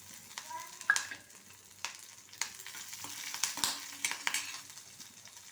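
Chopped green chili pieces fry in a pan with a steady soft sizzle, punctuated by a few louder spatula stirs and scrapes, close and fairly quiet.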